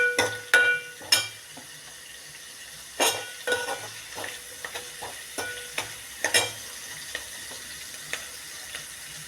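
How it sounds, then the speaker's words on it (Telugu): Vegetables for a cabbage curry fry in oil, giving a soft, steady sizzle under repeated close scrapes and clinks as a utensil stirs the pan at an irregular pace, with no talking. "ఒక 2 మినిట్స్ ఇవి కొంచెం ఆయిల్లో వేగనివ్వాలి"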